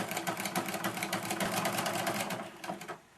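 A sewing machine stitching a quilted placemat with a quarter-inch seam gives a quick, even mechanical chatter that is close and moderately loud, then slows and stops near the end.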